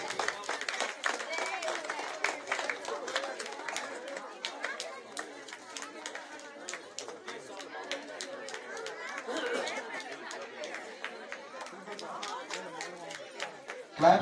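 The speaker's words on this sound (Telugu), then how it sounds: "గట్టిగా క్లాప్స్ కొట్టాలి" An audience claps during a Sankranthi festival game round at a closing ceremony, with steady, dense clapping running throughout amid crowd chatter and a voice talking over it.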